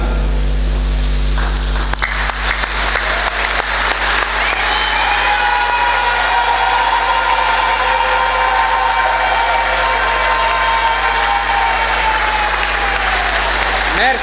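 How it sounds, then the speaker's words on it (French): A church congregation at a memorial Mass stands and applauds: sustained, loud, close clapping from many hands that builds after a couple of seconds and carries on steadily for the full stretch, with a faint low hum beneath and no speech. "je vous invite à vous lever et à applaudir une minute pour cette âme"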